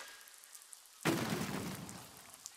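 A sudden explosion in the physics game Besiege, bursting in abruptly after quiet and decaying into a rumbling, crackling debris wash over the next second and a half.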